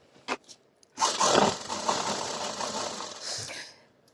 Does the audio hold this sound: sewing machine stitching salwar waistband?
yes